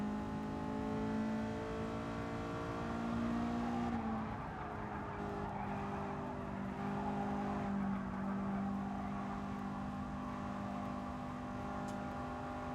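Racing car engine droning steadily in the Gran Turismo Sport video game during an FIA Nations practice lap, with sustained engine tones shifting in pitch as the car accelerates and lifts, loud and continuous throughout.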